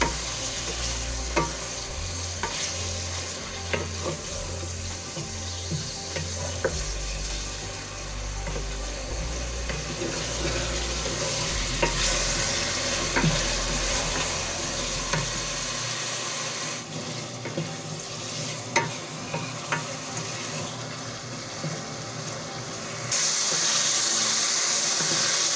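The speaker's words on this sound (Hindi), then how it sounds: "कीमे के पानी को हम कुचक करेंगे।" Minced meat (keema) frying over browned onions in a pan, giving a continuous close sizzle with scraping stirring strokes throughout, and a sharper hiss near the end.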